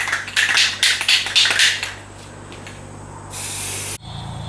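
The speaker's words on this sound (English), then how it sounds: "while Matt finishes up spray painting over there" Spray paint hisses onto a Ford Transit van part, coating it with mold blocking primer in short bursts, followed by a brighter, steadier spray near the end.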